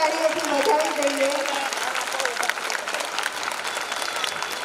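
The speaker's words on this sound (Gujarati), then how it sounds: "જોરદાર તાળીઓથી વધાવી દઈએ." An audience at a pre-primary school annual function claps loudly, a dense burst of applause that slowly thins out over several seconds, with some voices underneath.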